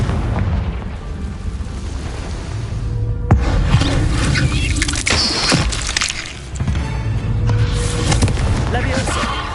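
Confringo fire spell blasts in Hogwarts Legacy, several loud explosive bursts with shattering crackle in quick succession, overlaid on a busy combat soundscape with a voice shouting spell names.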